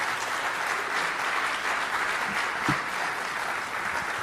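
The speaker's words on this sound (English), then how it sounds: "So let's give her a big round of applause." A live concert audience at the Reeve applauds a performer, a full, steady wash of many hands clapping at close range, holding loud and even from start to finish.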